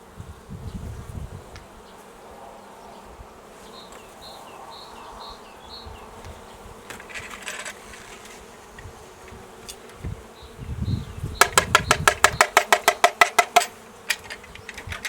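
Honey bees hum steadily around an open hive during a spring inspection, a close low drone with some faint knocks, then a burst of sharp rapid tapping or scraping toward the end.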